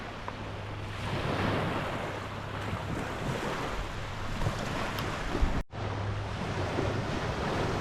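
Ocean surf washes onto a beach at Great Keppel Island, a continuous broad rush with wind buffeting the microphone and a brief cut near the end.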